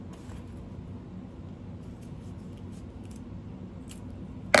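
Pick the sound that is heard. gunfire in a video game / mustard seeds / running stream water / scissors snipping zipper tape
scissors snipping zipper tape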